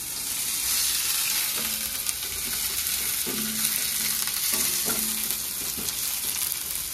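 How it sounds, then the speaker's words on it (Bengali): Finely sliced onion frying in hot oil in a pan, a constant close sizzle broken by several scraping and tapping stirs of a utensil, with no talking. "একদম ছোট ছোট কুচিয়ে রেখেছি পেঁয়াজটাকে, মানে স্লাইস করে রেখেছি সেটা। এটাকে ভালো করে ভেজে নেব।"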